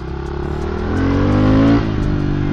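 A brand-new pit bike engine revs up loud and close while being ridden, rising in pitch to a peak then dropping back to a lower steady drone.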